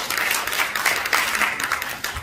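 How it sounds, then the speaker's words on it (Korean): Close, loud applause from the audience at a national assembly ceremony for World Couples Day, a thick, steady wash of clapping hands with a few sharper claps standing out. "우리 다시 한번 박수로 부탁합니다."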